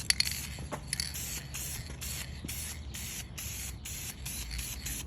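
Short bursts of spray paint hissing in a steady rhythm, repeated passes with brief pauses between them, close and fairly loud with no talking.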